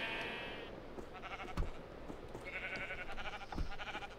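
Sheep in a heavily modded Minecraft world, Crazy Craft, bleat twice in clear game-sound cries several seconds apart over a steady background hum.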